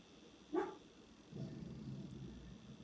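A female dog gives a brief sharp yelp, then settles into a low, rumbling growl that runs steadily for over a second. The sound is faint and close, with no talking.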